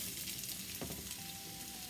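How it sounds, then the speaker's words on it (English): Onions sizzle in grapeseed oil in a preheated skillet, a steady, close crackling hiss with a brief stir partway through. "I already heated up the skillet just to make sure we can get a good sizzle."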